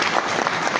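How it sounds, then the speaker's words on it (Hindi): An audience at a pre-launch event claps loudly in a brief, dense burst. "एक बार जोरदार तालियां चाहूंगा"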